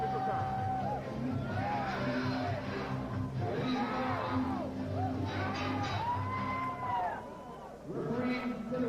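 Boxing crowd at a live fight reacting after a first-round TKO: a steady wash of cheering and murmuring babble that holds throughout and swells slightly, with an announcer talking over it.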